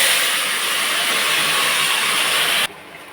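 Taro leaves hit a hot frying pan of oil already fried with a little turmeric, giving a loud, steady broadband sizzle that runs close up for a few seconds and then cuts down sharply to a quieter hiss.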